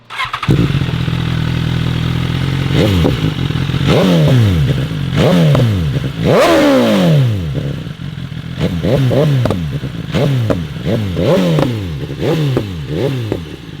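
A 2017 BMW S1000 RR sport motorcycle engine starting and revving repeatedly, loud and close, with rising and falling throttle blips over a rough idle.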